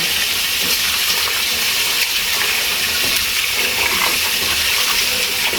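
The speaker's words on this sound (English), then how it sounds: "I'm going to get my rice washed now to put into the pot" Rice being washed for a pot of rice and peas under a running tap: a loud, continuous rush and splash of water from nearby, with no talking.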